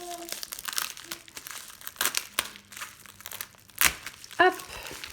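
Plastic packaging of a diamond painting kit being opened, giving close crinkling and crackling rustles in irregular bursts, with a sharper tearing rip near the end and faint speech in the background.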